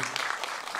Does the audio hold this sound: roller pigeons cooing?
no